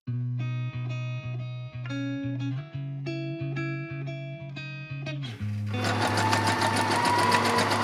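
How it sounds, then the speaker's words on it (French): A sewing machine runs a zigzag stitch while sewing a sweatshirt, its motor whirring in a series of short bursts that pause and restart, then settling into one louder, rougher continuous run toward the end. "ensuite un point zigzag à la machine à coudre"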